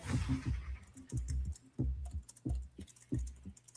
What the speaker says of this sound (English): We've been typing away for a few minutes.